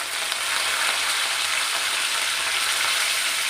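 Mustard seeds and cumin sizzle in hot oil with a steady, bright, crackling hiss that stays loud and even throughout, with no voices.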